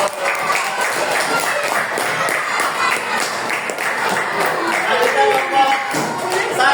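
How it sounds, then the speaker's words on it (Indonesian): Sixth-grade pupils in a physical education class clap for a group that has finished presenting, giving a lively burst of clapping mixed with classroom chatter and voices. "Kasih tepuk tangan dulu."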